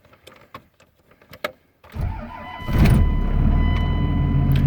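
A 2nd gen 24-valve Cummins diesel truck engine with about 290,000 miles, cold started: faint clicks and rattles, then the starter cranks and the diesel catches, settling into a loud, rough, steady idle close by.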